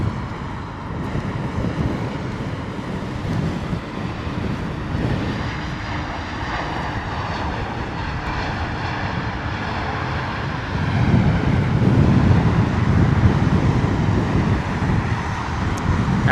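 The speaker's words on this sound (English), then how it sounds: "British Airways A321neo coming in from Milan." British Airways Airbus A321neo coming in to land on a wet, windy day, a sustained jet engine rumble with wind noise, swelling louder in the last few seconds as it passes near.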